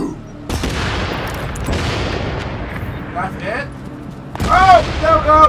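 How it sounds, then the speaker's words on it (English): Napalm tank explosion in the video game The Division, a loud sustained rumbling blast with crackling debris that starts abruptly and rolls on for several seconds, followed by a second burst with a voice briefly over it. "we can see the explosion from here"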